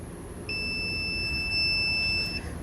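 A multimeter gives a continuity beep while checking the leads of a faulty Power Probe during a repair. It is one steady, fairly loud, high electronic tone lasting about two seconds over a quiet background hum.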